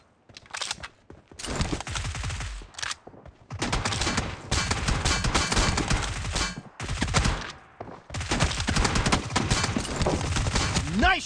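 Rapid bursts of UMP 45 submachine gun fire in a team-based shooter video game, several loud automatic volleys separated by short pauses, with game voice callouts mixed in.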